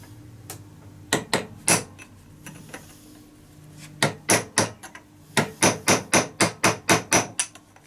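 A hammer taps the impacted edges of a nut on a 5HP18 / A5S310Z transmission tail piece outdoors in a backyard. A few scattered sharp metallic strikes give way to a quick, even series of about a dozen loud close blows.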